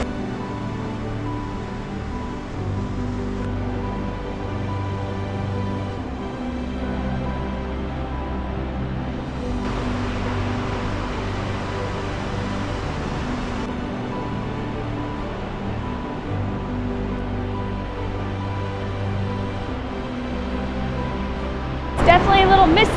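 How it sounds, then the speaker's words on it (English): Waterfall in Yoho National Park, a continuous heavy rushing roar of falling water, steady and loud throughout, with a brief clatter at the very end. "Pretty impressive waterfall though."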